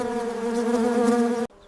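A worker bee buzzes loudly and close, a steady droning hum with strong harmonics for about a second and a half before it cuts off abruptly into quiet.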